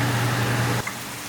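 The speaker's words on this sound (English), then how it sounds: "I'm going to start the fan." A kitchen exhaust fan runs with a steady broadband whoosh and low hum, then cuts off abruptly partway through, leaving quieter room noise.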